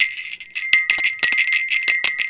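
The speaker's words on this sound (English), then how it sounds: "There's still jingle bells on our table over here from my son." Jingle bells shaken on a table, bright tinkling jingles in quick irregular bursts, close and fairly loud, with no talking.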